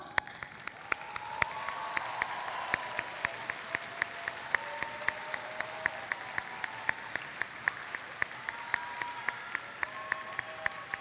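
A commencement ceremony crowd applauds standing Bachelor of Applied Science graduates, soft diffuse clapping from a large hall with a few sharp, close individual claps repeating through it and some voices underneath.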